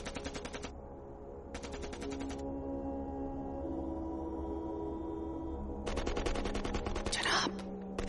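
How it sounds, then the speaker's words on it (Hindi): Rapid automatic gunfire in a war film battle scene, bursts of rattling shots in short clusters with gaps between, over a steady low rumbling background and without clear talk. "फायरिंग वापस शुरू हो गई।"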